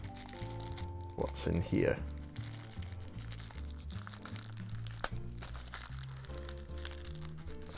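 A plastic bag holding earbud accessories is crinkled and torn open in a brief, loud burst of crackling and rustling, with a person talking throughout over music.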